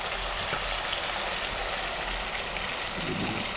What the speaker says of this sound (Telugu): ఇక మనం నీళ్ళు పోసుకున్నాం